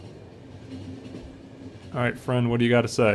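A train in The Final Station video game rumbles with a low, steady rolling drone, and a voice then talks over it.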